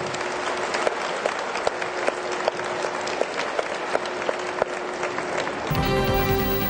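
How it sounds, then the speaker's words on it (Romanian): Audience clapping at a political rally in Moldova, a steady crowd applause with a few sharper claps standing out, ending abruptly as a different recording with a tonal broadcast sound cuts in. "Și eu vreau să aplaudăm acum pe cei care lucrează în administrația publică locală"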